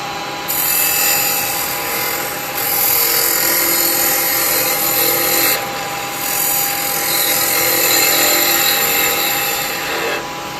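Wood lathe turning a basket weave bud vase with a carbide chisel, a loud continuous whirring hum with a scraping, hissing cut that swells and eases in several passes.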